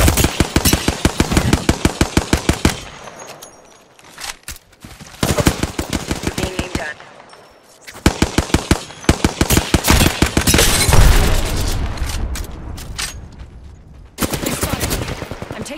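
Rapid automatic gunfire in Apex Legends with the Hemlock Retrofitted skin, long loud bursts of closely spaced shots broken by short pauses and reloads, with a voice speaking briefly amid the shooting.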